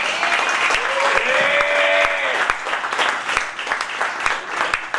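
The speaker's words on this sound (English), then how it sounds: "keep that going for your feature performer of the night, Sydney Carson." Audience applause and cheering for a stand-up comedy set, a steady loud wash of clapping lasting several seconds with a voice talking over it through the middle.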